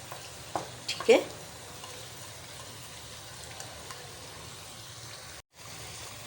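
Onions dropped into mutton frying in ginger and garlic for a balti gosht, a soft sizzle with a couple of short clatters near the start, then a low steady frying hiss, with a brief spoken word.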